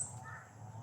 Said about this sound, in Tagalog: Lumapit yung mga uwak.